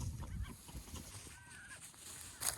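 Ducks call in a backyard garden in autumn, a few faint honking quacks over steady outdoor background noise.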